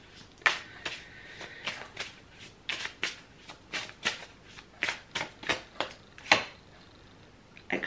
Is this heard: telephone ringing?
no